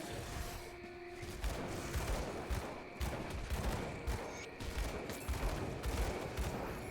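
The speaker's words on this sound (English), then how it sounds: "Otherwise you're just gonna see me dual wielding pistols." Dual-wielded pistols fire in the action RPG Grim Dawn, giving rapid, dense volleys of shots mixed with impact booms and combat effects, continuous throughout at moderate level.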